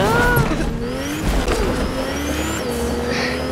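A truck driven in Fortnite, its engine droning with shifting pitch and a tire squeal near the start, steady and close over several seconds.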